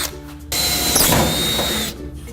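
A power drill whines for about a second and a half as it bores a pilot hole into a metal garage roller door, a high steady grinding buzz with quieter ambience before and after.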